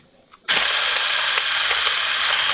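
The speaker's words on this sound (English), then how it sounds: "I'm gonna sew down my sash on this edge" Sewing machine stitching down a fabric sash edge, a short click and then a steady, close, loud mechanical whirring run that continues to the end.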